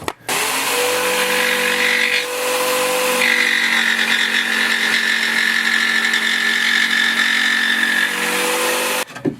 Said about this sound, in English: I'm cutting curved plywood and fitting them in.